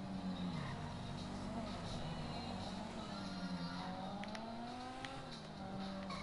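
Banshee sports car from Grand Theft Auto V, its engine droning steadily at close range with rising revs, a brief tire-squeal edge and loud continuous game sound throughout.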